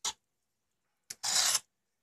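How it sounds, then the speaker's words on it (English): Fat being scraped off a smoked pork belly: a short rasp, then after a pause a brief scrape and a longer, louder scraping stroke of about half a second, close up with no voices. "just scraping all that fat off"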